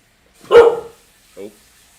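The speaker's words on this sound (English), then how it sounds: "My dog sees someone." A single loud bark from a pet dog at close range, followed a moment later by a shorter, softer yelp.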